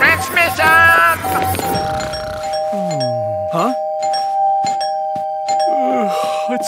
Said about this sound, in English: Who's ringing the doorbell at this hour?